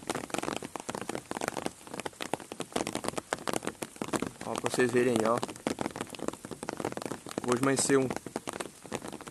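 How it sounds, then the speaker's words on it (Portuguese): Steady patter of rain drops striking a taut umbrella close by, on a rural smallholding in late afternoon, with someone talking over it. "Pingando as goteiras no guarda-chuva aí, ó."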